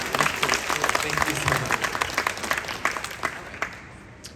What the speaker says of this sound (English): Please give Shu a round of applause for her help today.